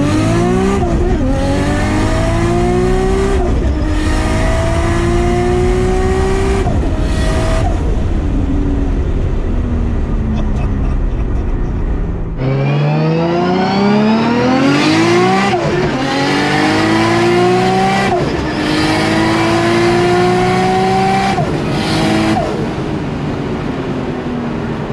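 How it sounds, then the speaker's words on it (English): A Nissan Skyline R32 GTR with a straight-cut dogbox is driven hard and shifted without the clutch, loud engine revs rising in repeated pulls with quick crisp gear changes and brief revs dropping between them, close and continuous. "So if you do it well enough, the car will sound like it's got a sequential in it."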